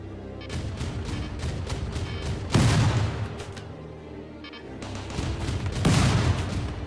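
Turret gunfire rattles through a RimWorld base battle in dense, overlapping volleys, swelling into heavier bursts around the middle and again near the end, loud and continuous.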